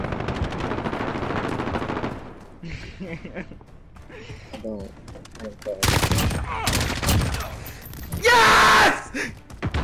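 Bursts of automatic machine gun fire from a Modern Warfare match, loud and repeated in stretches, mixed with explosive battle noise and shouting players talking over it.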